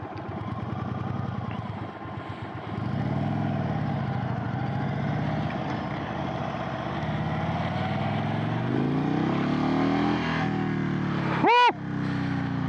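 A 2022 Indian Chief motorcycle engine revs and pulls hard, its rising drone building steadily up close with a sharp whooshing sweep near the end and a brief bit of talk at the start.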